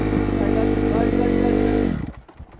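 A dirt bike engine idles loud and close with a steady buzzing drone, then drops abruptly as the clutch engages and first gear goes in; someone speaks over it.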